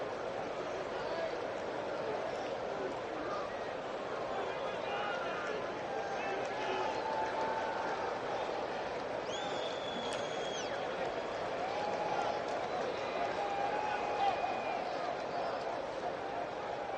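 A stadium crowd at a Real Madrid match applauds in tribute, a steady, distant wash of clapping and crowd noise sustained throughout, with a few whistles rising above it.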